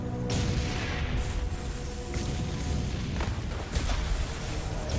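Heavy gunfire and booming explosions during the D-Day landing of Canadian tanks and infantry at Juno Beach in Normandy, 1944, a dense, loud, continuous battle din with scattered sharper blasts.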